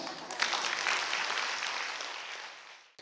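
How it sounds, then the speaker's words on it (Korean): Audience applause at a tea-culture leaders' training seminar, a dense, steady wash of many hands clapping that fills the room for about three seconds before cutting off abruptly. "박수 한번 주세요."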